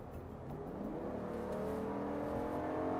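A Jeep Grand Wagoneer's 6.4-liter V8 Hemi engine revs up, the tone rising steadily over a few seconds, heard faint and fairly distant with no talk.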